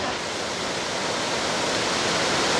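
Kaval waterfall in Hakkari roars steadily up close, a loud, unbroken rush of falling water with broad hissing spray and no voices over it.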